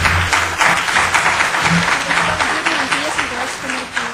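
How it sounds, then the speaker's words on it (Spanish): A conference audience breaks into sustained applause, a dense wash of clapping from many hands that continues steadily with voices faintly mixed in. "volverlo a recibir con un fuerte aplauso"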